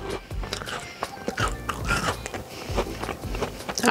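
Close crunching bites into a crisp cookie, followed by repeated chewing crunches, loud and near.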